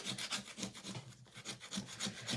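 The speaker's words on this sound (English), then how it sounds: "So I'm just going to scrape off this glued on cardboard" Glued-on cardboard is scraped off the back of a wooden frame in quick, rhythmic rasping strokes, about a dozen short passes with a brief pause midway, quiet and close.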